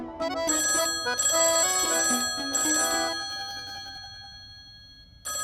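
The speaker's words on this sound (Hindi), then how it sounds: "जाके फोन उठाना, मम्मी नहीं तो चिल्लाएंगी" A phone rings with a bright electronic ringtone, a few tonal bursts repeating loudly, then a lingering chime that fades before a final ring starts.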